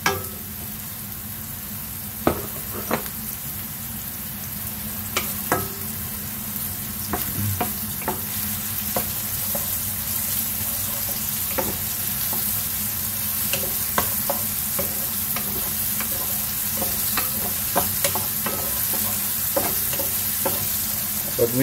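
Onions sizzling in a pan as the base for goat kaldereta, a steady loud crackle and fizz throughout with occasional sharp pops and stirring clicks.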